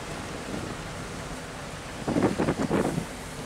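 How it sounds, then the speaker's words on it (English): Wind rushes past the microphone, a low steady rumble that swells into several louder gusts near the end. "It's a windy day."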